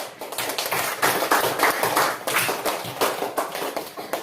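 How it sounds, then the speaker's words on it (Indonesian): Classroom of pupils clapping in applause for their group work during an elementary science lesson, a dense burst of many hands that swells and fades in waves for several seconds, with no talk. "Tepuk tangan."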